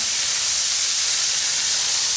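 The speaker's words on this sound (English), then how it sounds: "I'm gonna spray a little water and get some steam." Steady broadband hiss of water hitting a hot surface and turning to steam, continuous and fairly loud throughout.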